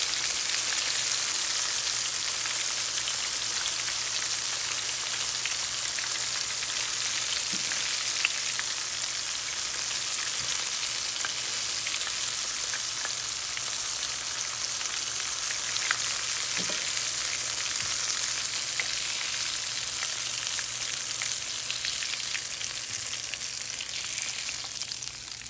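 Shrimp and catfish fry in a pan for Southern fried catfish, giving a steady, dense sizzle that holds evenly throughout with a few faint clinks and no talking.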